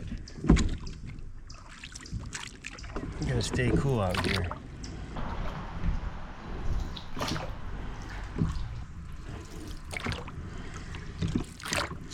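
Canoe paddling on a pond: soft water strokes and splashes, repeated at irregular intervals, with a voice talking over them and faint ambient noise throughout.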